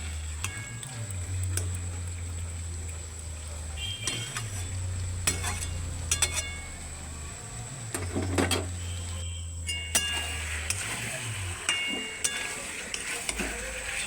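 Chicken sautéing in a pan as it is stirred and cooked down, a steady low sizzle with repeated spoon scrapes and clinks at a regular rhythm, close and moderately loud.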